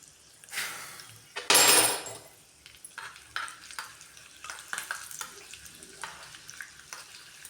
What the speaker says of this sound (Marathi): ह्याच्यामध्ये टाकायचं आहे आपल्याला सात ते आठ लसूण पाकळ्या